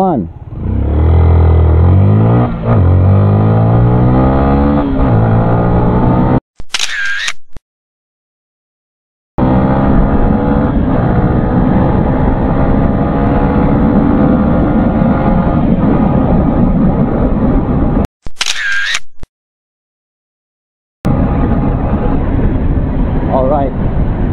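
A Yamaha Sniper 155 motorcycle engine revs hard and climbs through the gears at full throttle, loud and close, with two brief cut-outs and short breaks of silence.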